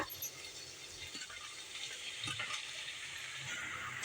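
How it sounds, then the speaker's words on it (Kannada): Pasta is tossed into fried garam masala in a pan, a faint, steady sizzle with soft stirring scrapes and occasional light taps of the spoon, close and quiet with no talking. "ಚೆನ್ನಾಗಿ ಫ್ರೈ ಮಾಡ್ಕೊಂಡಿದ್ದಾದಮೇಲೆ ಇಲ್ಲಿ ಪಾಸ್ತಾನ ಹಾಕೊಳ್ಳೋಣ"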